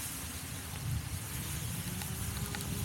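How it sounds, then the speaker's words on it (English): Steady rain hiss and patter during a ride on a Begode EXN electric unicycle in traffic, a broad continuous wash with low rumble of wind and road noise underneath. "It's starting to rain heavier"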